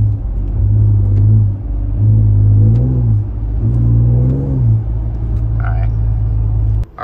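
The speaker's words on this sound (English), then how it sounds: "let's just blip the throttle real quick" A Toyota Tundra pickup idles with a deep, steady hum, then its engine rises in two quick throttle blips before settling back, loud and close, while stuck in traffic.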